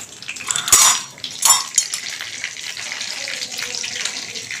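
Panch phoron, a dried chilli and bay leaf crackle in hot mustard oil while a spoon clinks and scrapes in the pan, a few loud metallic knocks early on over a softer, steady frying hiss.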